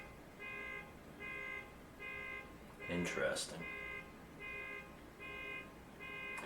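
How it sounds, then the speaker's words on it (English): A car alarm repeats a rapid multi-tone beeping pattern in regular bursts as the car is being towed, with a short spoken remark breaking in midway. "Somebody's getting their car towed, and the alarm's just blasting."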